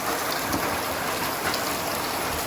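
Steady rain falls outdoors in a constant, even hiss of drops hitting surfaces, loud and unbroken throughout with no talking.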